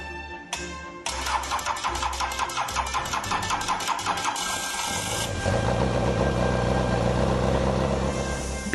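A car engine in a vehicle repair workshop cranks through a rapid, rhythmic run of starter turns, then catches and settles into a steady idle close by.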